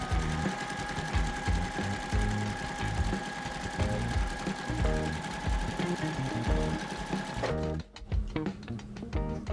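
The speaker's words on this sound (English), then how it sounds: "I'm gonna sew just like a half square triangle, 1/4 inch off of each line here" A sewing machine stitching plastic quilt fabric at a long stitch length, running steadily and loudly with a fast mechanical chatter and steady hum, briefly pausing near the end before resuming.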